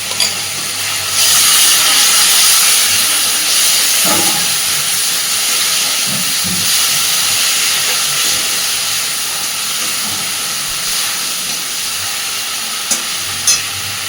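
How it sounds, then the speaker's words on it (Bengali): A paste of ground tomato, ginger and green chili sizzles loudly in hot oil, a sustained bright hiss with brief clatters of stirring scattered through, close and without speech. "এইবার এর মধ্যে আমি দিয়ে দিচ্ছি টমেটো, আদা আর কাঁচা লঙ্কা একসাথে বাটা"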